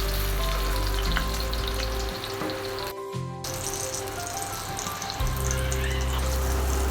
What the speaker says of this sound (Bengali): এমন করে লাল লাল করে তেলে বেগুন ভাজি সুন্দর করে বেগুন ভর্তা বানান যায়